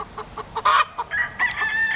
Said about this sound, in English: There's chicken stuck in the tree.